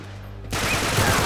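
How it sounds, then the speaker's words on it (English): Uncharted 3 video game gunfire breaks out abruptly midway and carries on as a loud, continuous rattle of rapid shots. "I'm shooting his hand!"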